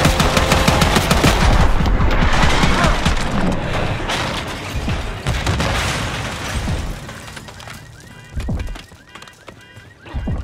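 Gunfire in Call of Duty: Black Ops 6 comes as dense, loud bursts and rapid shots over roughly eight seconds. The firing thins out near the end, leaving a few scattered heavy hits.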